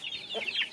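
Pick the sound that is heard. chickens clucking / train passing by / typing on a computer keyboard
chickens clucking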